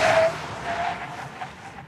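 A 2006 Hyundai Sonata brakes hard from 100 km/h, its tires giving a sharp squeal that starts loud and then fades into a softer, wavering screech as the car slows.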